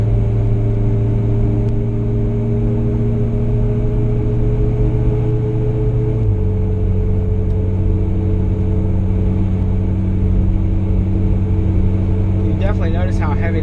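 Oversized 38x15.50 tires on 20-inch wheels under a leveled Ford F250 give off a continuous low droning hum at road speed inside the cab, with the tone stepping down partway through and a voice speaking briefly near the end.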